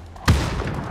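A single sharp gunshot rings out in the battle royale game PUBG, a loud close crack with a booming low thump that trails off into a short echoing tail.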